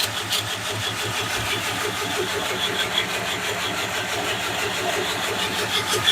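A belt grinder running a 60 grit ceramic belt grinds a knife blade, producing a loud, steady, continuous roar with a rough, pulsing texture throughout.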